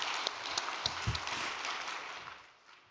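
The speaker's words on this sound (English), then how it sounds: "why don't we give them a big round of applause?" Applause from a church audience, dense clapping spread across the room, steady at first and then tapering off toward the end.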